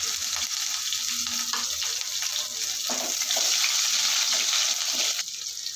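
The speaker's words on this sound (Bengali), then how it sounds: "এখানে আমি তেল দিয়েছি, তেল গরম হয়ে গিয়েছে। এখানে কেটে রাখা পেঁয়াজ ঝাল দিয়ে দেবো" Chopped onion and chili hit hot oil in a pan, giving a steady hissing sizzle with crackling spatters, close and continuous, with no talk over it.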